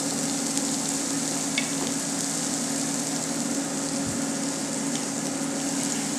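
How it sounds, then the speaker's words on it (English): Shallots fry in oil in a pan with an even, continuous sizzle and crackle, close and moderately loud, with no voices. "we're going to add our shallots to this pan"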